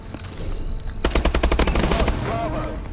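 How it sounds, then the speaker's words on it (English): A machine gun fires in the shooter video game Call of Duty: Advanced Warfare, a rapid, loud burst of about a dozen shots lasting roughly a second, followed by ringing and echo. "I gotta go, big ol' machine gun, and I just fired that!"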